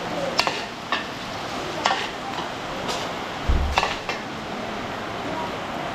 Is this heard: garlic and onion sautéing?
yes